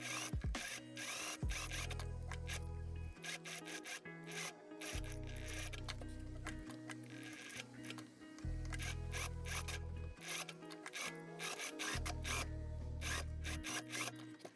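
A sewing machine stitches a winter coat collar in several bursts of rapid, humming, mechanical stitching, each a second or two long, separated by short pauses with handling rustles.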